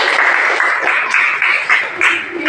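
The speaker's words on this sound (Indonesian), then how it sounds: "mari kita beri aplaus untuk" Students in a classroom give a steady round of applause, dense clapping that carries on evenly throughout at fairly close range.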